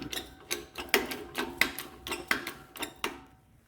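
Jeep Cherokee XJ leaf spring bushing pressed in with a wheel bearing adapter kit, giving a run of sharp metallic ratcheting clicks in a steady rhythm, about one every half second, close and fairly loud with no talk.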